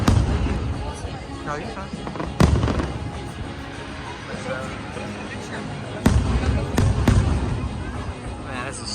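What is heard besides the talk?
fireworks show at Magic Kingdom beside Tron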